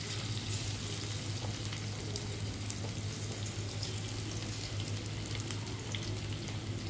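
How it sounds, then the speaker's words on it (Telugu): Chicken pieces for Schezwan chicken fry in a hot pan with a steady, dense crackling sizzle that stays even throughout, close up with no voices. "ఇవన్నీ వేసేసి చక్కగా దాన్ని ఫ్రై చేస్తున్నాను."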